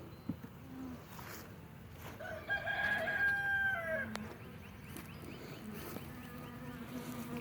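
Honey bees in a hive packed with brood in late February hum in a steady low drone, while a rooster crows clearly in the background partway through.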